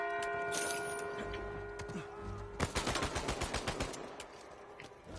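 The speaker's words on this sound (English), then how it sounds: "who are you shooting at?" Gunfire in the Uncharted 4 multiplayer game, starting with scattered shots over a humming background and then breaking into a rapid, rhythmic automatic burst of repeated cracks lasting a couple of seconds, moderately loud, with no talking.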